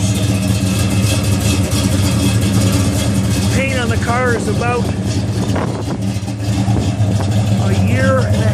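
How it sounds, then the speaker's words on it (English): A 1971 Pontiac GTO HO with a correct fluted exhaust balance pipe and dual tips rumbles steadily and loudly at a low, even idle, while someone talks over it the whole time. "not going to hear me much over the rumble of that exhaust"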